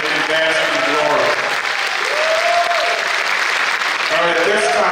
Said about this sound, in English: let's give them all a great big round of applause